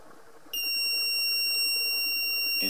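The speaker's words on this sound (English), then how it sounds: "There's a buzzer on board." Onboard buzzer of an ESP8266 WiFi development board sounding a loud, steady high-pitched electronic beep that starts abruptly and holds continuously, over faint background hum.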